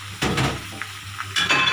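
Sausage stir-fried in a pan gives bursts of sizzling and scraping stirs in short waves, close and moderately loud, with brief pauses between strokes.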